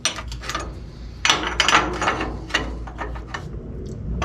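A ratchet tightens nuts on the back side of a hot rod pedal mount, a series of close, sharp clicking bursts with brief pauses between strokes, fairly loud and without talk.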